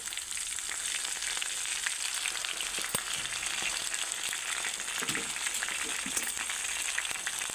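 Fenugreek seeds and hibiscus flowers sizzle in hot oil for a homemade hair growth oil, a steady close frying hiss with faint crackles running throughout.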